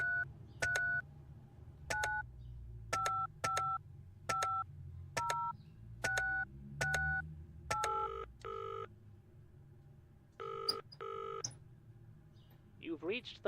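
A telephone in the video game Penelope Pendrick dials a number, a rapid run of two-tone keypad beeps followed by a few longer ringing tones, with faint background noise beneath.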